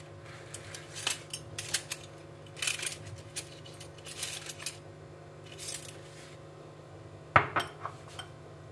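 A metal grill pan is handled and set down in a home kitchen during sandwich preparation, giving scattered light clinks and clatters with one sharper knock near the end over a low steady hum.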